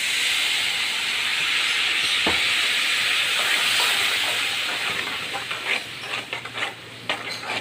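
Vinegar poured into hot chili oil in a pan while making star fruit pickle, giving a loud, steady hiss and steam that fades into uneven crackling sizzles near the end.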